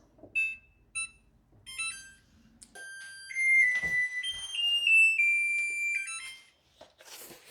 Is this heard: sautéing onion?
no